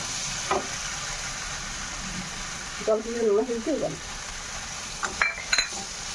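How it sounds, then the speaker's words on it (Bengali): Oats are stirred into a fried tomato and onion masala in a pan, a soft continuous sizzle with scraping stirs and a few clinks, while a voice briefly speaks in the middle. "এবার ভালো করে মিশিয়ে নেব ওটস রে এর মশলার মধ্যে।"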